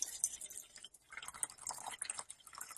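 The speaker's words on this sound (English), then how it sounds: "you're going to fill it up with water till the stones are covered" Water pours into a rock tumbler barrel over the stones, a faint, close trickling and splashing that runs unevenly for a few seconds with no voices.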